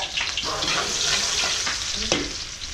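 Garlic and onion sautéing in a pan, a loud, steady sizzle with scraping stirs throughout and a sharp clank of the utensil near the end.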